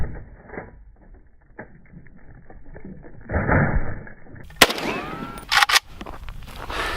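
A rifle test-fired with 7.62x39 rounds into concrete, a sharp sudden report followed by a couple of quick loud bursts after quieter handling sounds.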